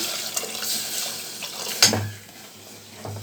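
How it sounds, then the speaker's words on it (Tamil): Water pours into a cooking pot while making nombu kanji, a steady soft splashing stream that ends with a brief clunk, followed by a low hum. "இப்போ வந்து இது தேவையான அளவு தண்ணி சேர்த்துக்கிறேன்"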